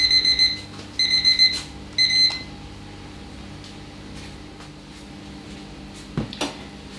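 Three short bursts of high electronic beeping from an oven timer, followed by quiet kitchen ambience and a brief clatter near the end.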